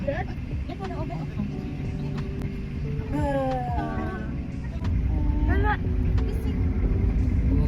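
A small family car, packed full of family members, drives along a road with a steady engine and road rumble throughout, while people chatter and call out inside.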